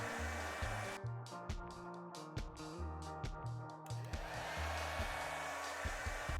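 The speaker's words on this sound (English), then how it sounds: "so I'm speeding things up with a hairdryer." A hair dryer blows continuously close by, a steady whirring drone that cuts in and out as it is switched or moved, with a few clicks and knocks.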